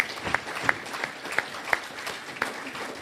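Scattered clapping from an audience, sparse and uneven claps rather than full applause, heard at a moderate distance.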